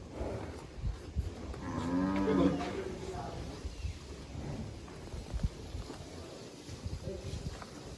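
Jersey cattle on a farm give one long, deep moo near at hand, followed by quieter shuffling and breathing noises with light wind on the microphone.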